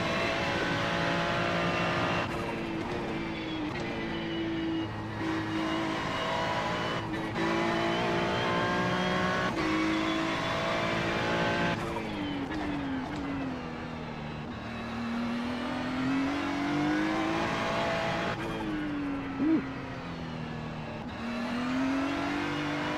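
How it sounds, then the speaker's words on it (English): Race car engine revving hard with rising and falling pitch sweeps and tire wheel spin in a racing video game, loud and continuous throughout, with no talk over it. "A lot of wheel spin though."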